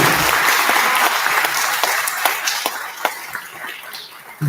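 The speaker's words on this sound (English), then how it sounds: "How about another round of applause for Chamber Orchestra and Miss Elizabeth Hammond?" A school concert audience applauds the Chamber Orchestra, full clapping that gradually thins into scattered individual claps near the end.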